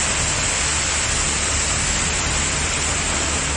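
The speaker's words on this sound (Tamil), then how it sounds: "ஓசூரில் கொட்டி தீர்த்த மழையால் பேருந்து நிலையம் பகுதியில் குடம்போல் தேங்கிய தண்ணீரில் வாகனங்கள் தத்தளித்தபடி சென்றன" Heavy rain pours steadily over the bus stand area in Hosur, a dense, constant hiss with no breaks, loud and close throughout, with a low rumble underneath and no voices.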